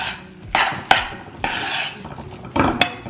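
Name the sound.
mixing lentils with egg and flour in a bowl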